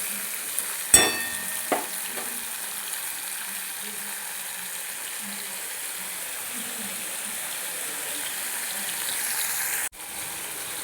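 Prawns frying in a pan for a pumpkin and prawn bharta: a soft, continuous sizzle, a few utensil scrapes and clanks of stirring near the start, and a sharp knock toward the end.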